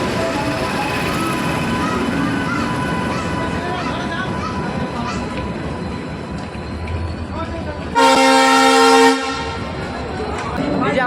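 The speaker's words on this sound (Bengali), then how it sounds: "এই যে আমাদের ট্রেন ফাইনালি প্ল্যাটফর্মে ঢুকেছে" The Garib Rath Express arriving at a station platform from Kolkata: a continuous rumble of rolling wheels and coaches, broken by one long loud horn blast near the end.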